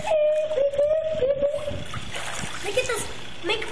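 Water splashes and sloshes close by in a swimming pool as waves are made, with a voice and talk over the irregular splatter.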